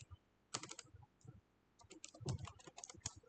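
Quick bursts of keystrokes clatter on a computer keyboard, irregular clusters of soft clicks with short pauses between, close and fairly quiet.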